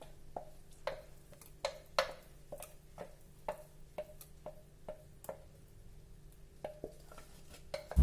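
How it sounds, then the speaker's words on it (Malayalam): Spoon stirring Kerala-style vattayappam rice batter in a bowl, giving a steady series of sharp, evenly spaced taps and clinks against the bowl's side, close and fairly quiet, with no talking. "നന്നായിട്ടൊന്ന് ഇളക്കി കൊടുക്കാവേ"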